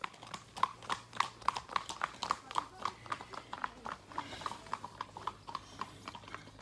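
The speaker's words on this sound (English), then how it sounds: "Here come some horses." Horses' hooves clip-clopping on a road, a steady run of crisp, evenly spaced strikes passing fairly close over a low engine-like hum.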